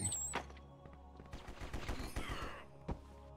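Automatic machine gun fire in the War Brokers shooter game, several rapid bursts of sharp cracks over a steady in-game hum, fairly loud throughout.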